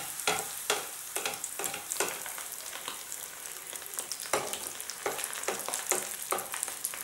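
Brik pastry frying in hot oil gives a steady crackling sizzle with sharp bursts of popping spluttering throughout, close and fairly loud with no voices.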